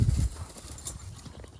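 Hooves of a red colt clip-clop on ranch ground in Colorado while it is ridden, with a few close, heavy thuds at first, then lighter, fainter steps trailing off.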